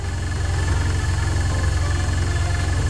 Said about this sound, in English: Makes a lot more noise and vibration compared to the orbital engine.